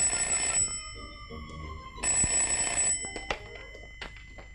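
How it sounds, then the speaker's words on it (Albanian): A telephone ringing indoors, two long electronic bursts of trilling ring separated by a pause, followed by a few clunks and knocks as it settles, no voices. "mere pak telefonin se jam e zënë"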